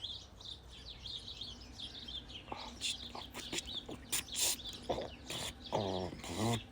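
Small birds in a back garden chirp and tweet in scattered bursts over a soft outdoor background, with a few louder calls near the end, some close and others farther off.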